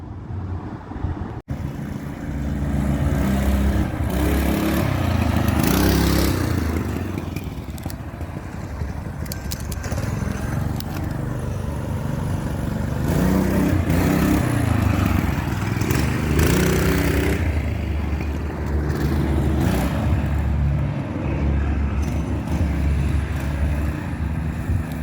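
A repaired mini bike with a new throttle control arm runs steadily while being ridden around an outdoor swap meet, its small engine droning continuously with wind buffeting the microphone and no talk.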